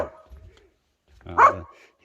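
A dog outdoors near a cabin and creek lets out a single bark, moderately close, after a quiet stretch with faint low rumbling.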